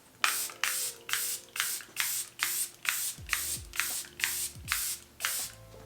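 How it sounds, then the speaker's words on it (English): Makeup setting spray misted onto a face in about eleven quick, evenly spaced bursts, each a short hissing spritz, close and fairly loud with soft handling noise between. "So I'm just going to take some of my setting spray to hopefully kind of rehydrate things"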